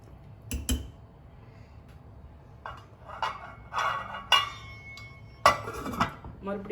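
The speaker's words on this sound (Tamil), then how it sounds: "நான் மூடி போட்டு மூடி வச்சுட்டேன்." Metal clinks and clatters of a lid settling onto a pot of bottle gourd tamarind curry, several sharp knocks spread out over quiet kitchen background.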